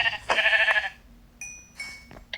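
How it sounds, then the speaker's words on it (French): Sheep in the video game Minecraft bleating in two short, clean, tonal calls with a pause between, close and clear, with no talk. "Tiens, un autre mouton."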